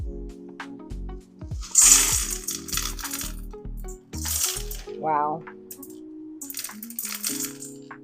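A loud clattering rush of small hard clay pebbles poured out of a plant pot holding an Alocasia, rattling for a few seconds, with a brief exclamation from a voice.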